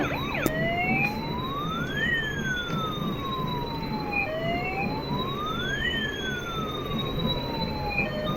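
A toy ambulance siren wails in repeated rising and falling sweeps, steady and fairly close, with no voices over it.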